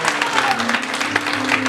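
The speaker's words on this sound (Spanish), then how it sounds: "Den un aplauso a él." A church congregation bursts into brief, dense applause during a Spanish-language service, steady clapping filling the room with faint voices mixed in.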